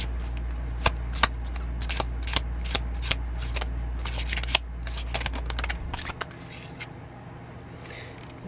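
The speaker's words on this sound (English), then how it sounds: "So what we're going to do is pull a few oracle cards" Oracle cards being shuffled by hand, a run of crisp riffling snaps and flicks close up over a low steady hum, ending in softer handling.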